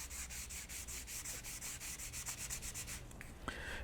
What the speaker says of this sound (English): so use a little bit of pressure, and we'll just sand all the way along here.